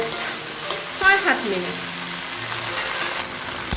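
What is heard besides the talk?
taro flowers frying and being stirred in a pan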